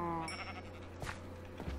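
Sheep bleat in the Minecraft Skyblock video game: one clear, wavering bleat opens the sequence. Fainter animal calls and small game sounds follow over a steady low hum.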